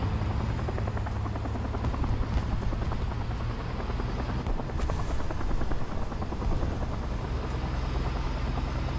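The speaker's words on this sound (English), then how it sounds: "Let's use that heli sounds as cover" Steady, loud helicopter rotor and turbine drone in War Thunder, a constant chopping throb holding through the whole stretch with a brief brighter swell midway.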